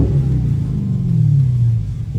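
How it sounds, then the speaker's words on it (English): Dodge Challenger engine revving up, a loud, close rumbling roar that rises in pitch and holds before easing off, with no talking over it. "I will rev it a couple times, get you a feel for that part of it too."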